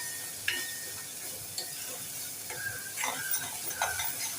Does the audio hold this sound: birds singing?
no